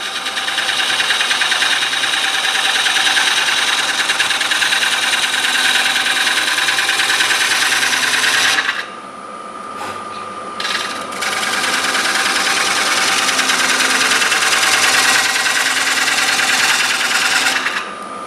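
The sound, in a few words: sharpening woodturning tools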